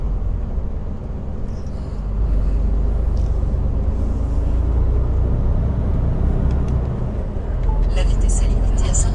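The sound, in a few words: trucks on the A1 motorway at night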